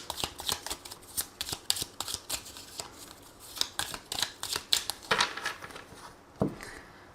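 Tarot cards shuffled and cut by hand, a run of quick papery riffles and soft slaps in close, uneven bursts with no talking.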